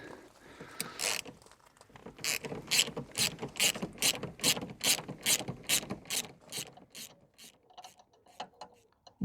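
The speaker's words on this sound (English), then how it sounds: "So let's get the first bolt out. In with the ratchet." A ratchet loosens a front seat bolt on a Vauxhall Corsa D, a rapid series of close clicks with brief pauses between bursts.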